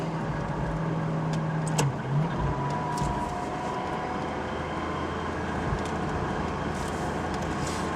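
A Maserati cruises on the road at highway speed, a steady engine and road roar from inside the cabin with a brief rise in engine tone and faint clicks along the way.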